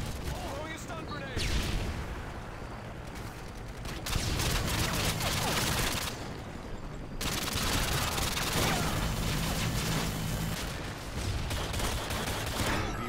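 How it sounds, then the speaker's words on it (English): A stun grenade goes off in Call of Duty: Modern Warfare 2, amid dense, loud bursts of gunfire and booming blasts that cut out briefly and then resume, with a voice talking over the action. "Throwing a stun grenade."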